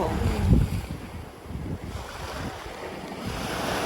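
Ocean waves break on Sokcho Beach on Korea's east coast, a loud, continuous wash of surf with heavy wind buffeting the microphone and a stronger surge near the start.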